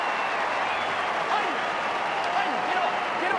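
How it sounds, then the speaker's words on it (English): The crowd at an AFL football match between Fremantle and Port Adelaide roars after a Fremantle goal, a broad, distant wash of cheering and applause under a commentator's steady voice. "the crowd find voice"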